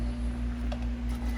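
A sewing machine runs close and steady as it stitches along the folded hem of a pajama shirt, producing a continuous hum with a soft rhythmic mechanical pulse.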